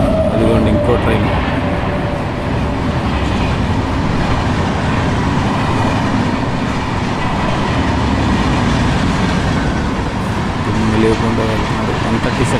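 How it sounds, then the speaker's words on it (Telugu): Heard from aboard the Tenali to Vijayawada passenger train, another train passes on the railway line with a loud, continuous rumble and rhythmic clickety-clack that runs steadily for the whole stretch. "అదిగోండి ఇంకో ట్రైన్"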